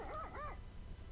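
A guard dog in a horror video game gives two quick yelping barks, short and close, followed by a low rumbling background.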